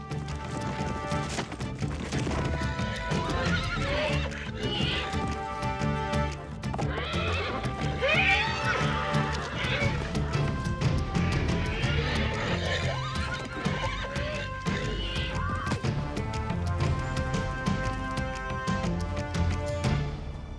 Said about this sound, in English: bachelors begin play fighting, honing skills they will need to win and keep mares.